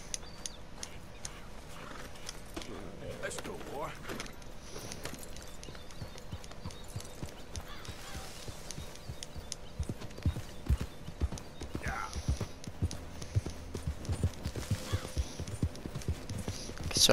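Horse hooves clip-clopping at a walk in the Red Dead Redemption 2 video game, with quiet, irregular steps that grow louder and more frequent toward the end. Occasional soft snorts and ambient hum sit beneath them.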